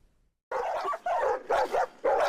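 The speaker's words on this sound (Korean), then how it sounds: "사람이 다가가자 어린이보다 큰 개들이 맹렬히 짖습니다" Several large, fierce guard dogs trained to hunt wild boar bark loudly and aggressively in repeated bursts, four close barking volleys after a brief silence.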